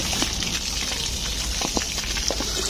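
Water splashes and gushes steadily while a floor is being washed down, a constant close hiss of running liquid with a few brief splashes and drips on top.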